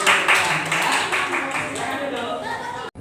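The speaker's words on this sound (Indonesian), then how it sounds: "berikan tepuk tangan untuk kelompok 2." A classroom of school students claps for a group during a lesson, a short burst of brisk, uneven hand clapping that fades after about three seconds, with voices mixed in.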